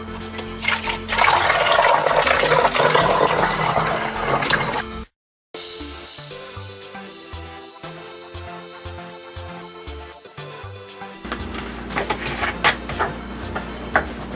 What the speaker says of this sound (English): So I'm gonna rinse this out.